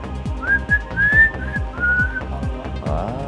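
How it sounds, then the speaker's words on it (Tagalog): A person whistles a short wavering tune up close, accompanied by rhythmic plucked or percussive music in the background. "Marunong ka bang sumipol?"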